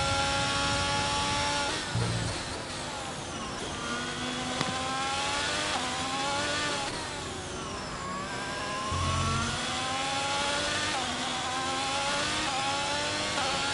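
A Formula 1 car engine in the video game F1 22 on PS5, racing at Silverstone, revs and shifts continuously, rising and falling whine with gear changes, loud and close, no talking.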